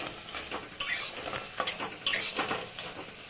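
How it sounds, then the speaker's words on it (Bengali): Lentil fritters sizzle softly in a pan while a metal spatula scrapes and clanks several times as each one is flipped over. "এখন এক এক করে এভাবে উল্টে দেব সুন্দর করে"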